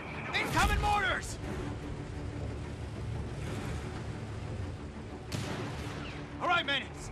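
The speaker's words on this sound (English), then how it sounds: "Incoming mortars!" Artillery and mortar impacts in the Company of Heroes 3 Italy campaign: several heavy booms with rumbling blasts, a burst near the start and more around five and six and a half seconds, over a constant battlefield din with voices shouting.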